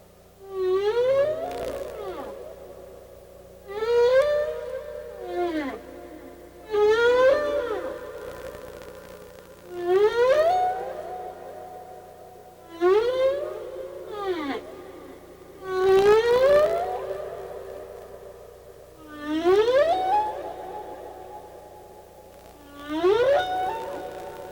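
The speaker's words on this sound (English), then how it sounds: "Humpbacks are kind of interesting whales. They have a song that they sing every year, and they change parts of it in the following years." Humpback whale song recorded underwater: a slow sequence of long rising and sustained moaning tones with upsweeping harmonic calls, repeated in roughly eight phrases, loud and clear with no other sounds.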